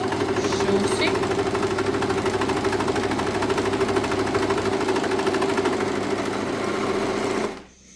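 Bernette B48 overlocker stitching a seam through cotton canvas, a loud steady mechanical whir with rapid regular needle chatter running continuously, then stopping abruptly near the end.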